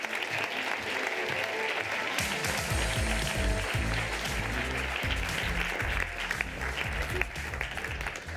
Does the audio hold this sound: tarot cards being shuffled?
no